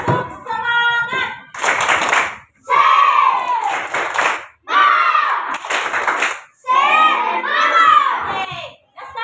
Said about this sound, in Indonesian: Nah, sekarang tepuk semangat.